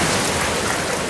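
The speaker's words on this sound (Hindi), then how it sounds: "ऊपर से बारिश आ रही है।" Rain falls steadily on and around a hut during a storm, a dense, even hiss that holds at the same level throughout, close and fairly loud with no voices.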